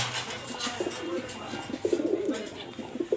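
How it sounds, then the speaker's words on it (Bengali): Soft, low pigeon cooing repeats a few times in close succession, murmuring against a faint background hiss. "এখানে এক জোড়া কবুতর আছে"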